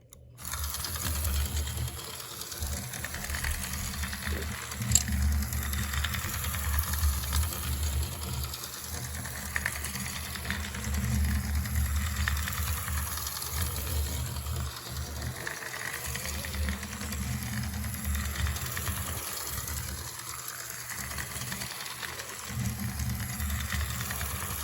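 A Santa Fe mini M gauge toy train runs on its track with the caboose removed, producing a steady, close mechanical whir and grinding gear rattle with faint clicks that goes on without a break.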